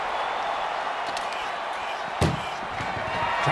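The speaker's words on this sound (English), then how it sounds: "Trying to at least slam one door shut." In a wrestling video game, an ambulance door slams shut with a single sharp bang midway, set against a steady crowd roar with a commentator talking.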